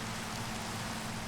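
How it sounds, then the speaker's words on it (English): Steady soft rain in the Minecraft video game, a faint, even hiss of falling drops with no pauses, carrying on alone without talk. "it rains right as I sleep"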